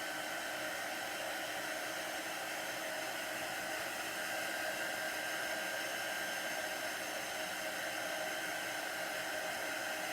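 A hair dryer blows steadily on painted craft decor for a tabletop or shelf, giving a constant close whooshing roar that never changes for the whole stretch, with no talking.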